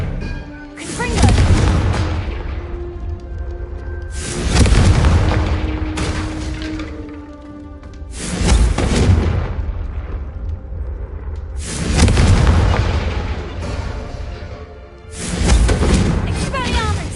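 Explosive Confringo spell blasts go off in Hogwarts Legacy, five heavy booms arriving roughly every three to four seconds, each a loud low burst that decays slowly. A voice calls out between the blasts.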